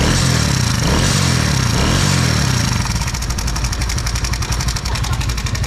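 A motorbike engine, misfiring after nearly 300 kilometres of riding in Vietnam, chugs close by with a rough, uneven, tractor-like clatter, pulsing steadily throughout with the beat sharpening toward the end.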